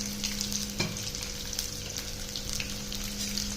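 Onion and seeds fry together in a pan, a dense continuous sizzle and crackle close up with a steady low hum beneath, alone without voices.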